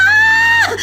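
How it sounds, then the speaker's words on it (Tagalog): A single bloodcurdling scream from inside a house, a high sustained cry that holds steady and then breaks off abruptly near the end, heard alone and loud. "Biglang pumailang lang sa ere ang isang makapanindig balahibong hiyaw mula sa loob ng bahay"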